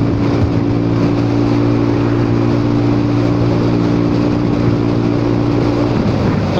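Honda Forza 300 scooter with an aftermarket exhaust gives a continuous, close engine drone with a deep, steady rumble that holds for several seconds before easing slightly.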